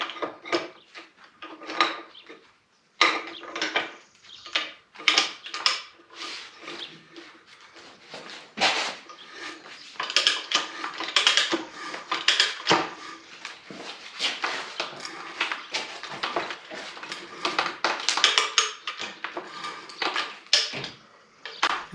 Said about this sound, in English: This is a 3/4 inch pipe cutting die.